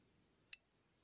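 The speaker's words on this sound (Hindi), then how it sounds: "जो हल्की सी आवाज़ है ये ऑटो कट होने की आवाज़ है" A geyser thermostat gives a single faint, sharp click as it automatically cuts off, heard alone against quiet room noise.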